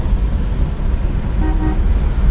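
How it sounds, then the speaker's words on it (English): An old car's horn sounds in two short honks around the middle of the clip, heard over the steady rumble of the engine and road noise inside the moving vehicle. "Horn works."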